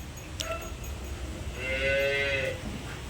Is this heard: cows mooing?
yes